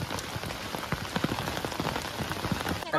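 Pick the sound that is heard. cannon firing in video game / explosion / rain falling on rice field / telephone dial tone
rain falling on rice field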